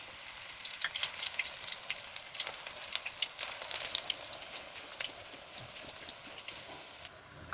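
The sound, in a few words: jute leaf pakoras frying in oil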